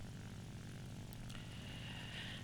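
Steady, droning propeller fighter aircraft engine in the War Thunder combat flight game, running continuously at an even pitch with a faint whine rising near the end.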